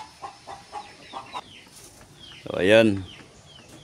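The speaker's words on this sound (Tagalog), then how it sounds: "ito po yung mga inahin ko dito" Mother hens on a backyard farm cluck in short repeated calls, then one louder drawn-out squawk rises near the end; a person speaks briefly.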